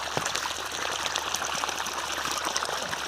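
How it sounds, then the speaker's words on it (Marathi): A 5 HP solar water pump on a farm gushes water in a steady, loud, continuous rush with broadband splashing, sustained without a break and free of talk. "5 HP सोलर सुरू आहे आणि किती पाणी मारतं आहे तुम्हाला दाखवतो."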